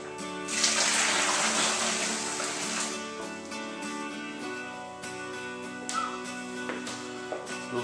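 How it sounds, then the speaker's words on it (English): Homebrew Coopers IPA liquid is poured into a bucket, a rushing gush that is strongest at the start and then settles into a quieter, steadier trickle. "and then we'll pour it in the bucket"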